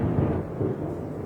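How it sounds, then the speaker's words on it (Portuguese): Thunder rumbles outside during a storm, a low continuous roll that swells and fades across the moment, fairly loud with no voices over it. "Se vocês ouvirem barulho, tá trovejando aqui, né?"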